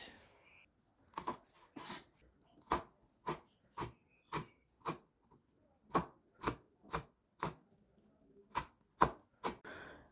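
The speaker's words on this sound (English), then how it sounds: "Three green chilies, finely sliced." A knife slices three green chilies finely on a chopping board, giving a series of sharp, evenly spaced taps, about fourteen crisp strikes close up with quiet gaps between them.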